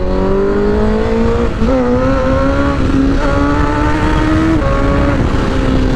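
Engine of a 1000cc motorcycle while riding, a loud steady close-up drone with shifting pitch as revs rise and settle, mixed with wind rush, continuous throughout.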